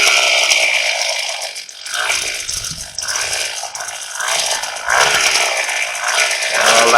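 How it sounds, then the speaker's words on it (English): A powered machine drills a planting hole in the ground for fall transplanting of Christmas tree transplants and seedlings, its engine rattling loudly and continuously with surging, uneven roars. "It's going to start drilling the first hole."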